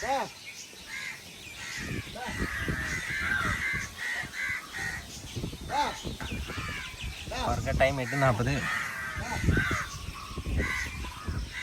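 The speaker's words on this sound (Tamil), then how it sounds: "அவர் வந்து பூந்தி கொடுக்குறாரு காக்கா எல்லாம் வந்துருச்சு" Crows caw repeatedly around a spot where sweet boondi is being handed out outdoors near coconut trees, harsh calls overlapping steadily while someone speaks Tamil over them.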